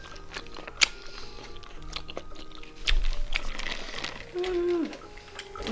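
Someone chewing a strawberry latte with added tapioca bubbles and a cheese foam topping, giving soft close-up mouth sounds with a few crisp bites, while a brief voice murmurs.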